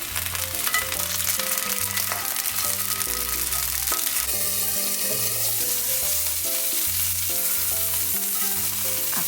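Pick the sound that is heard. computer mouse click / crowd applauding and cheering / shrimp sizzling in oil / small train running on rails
shrimp sizzling in oil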